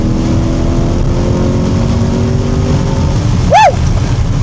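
Chevrolet C8 Corvette Stingray engine droning steadily under load while accelerating, loud and close from inside the car, with a quick rising-and-falling chirp near the end as a gear shifts.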